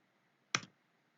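A single sharp click of the Enter key on a computer keyboard during a MikroTik installation, one brief close tap in a quiet room.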